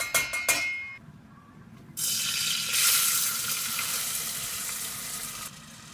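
Cooking fat poured into a medium-hot saucepan bursts into a loud, steady sizzle after a few short clinks and a brief lull, then hisses on before quieting at the end.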